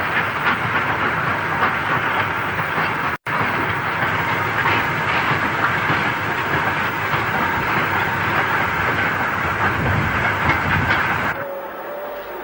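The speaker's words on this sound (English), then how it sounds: "A Black 5 takes us back to Stockport Station." An LMS Black 5 steam locomotive runs steadily near Stockport Station, a loud continuous rumble and rattle of the train lasting throughout, with one brief cut early on before it fades abruptly near the end.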